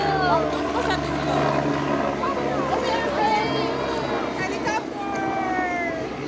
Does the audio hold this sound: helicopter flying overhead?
yes